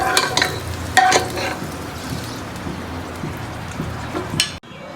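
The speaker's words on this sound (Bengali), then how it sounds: "সামান্য একটু লাল লাল করে ভেজে নিতে হবে, যাতে না পড়ে আলুগুলো।" Potatoes frying in oil in a pan, with a steady close sizzle and several sharp clinks of stirring before the sound cuts off near the end.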